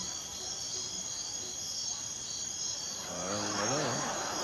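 A cricket keeps up a constant shrill chirring throughout, steady and fairly prominent, while a voice joins in toward the end.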